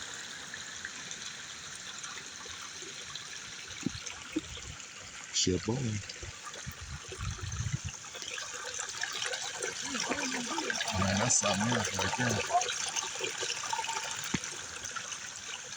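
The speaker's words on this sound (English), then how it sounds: "Look at that water coming out of there." Water from a natural spring flows out of a hole in the ground with a steady outdoor trickle and wash, while someone talks over it.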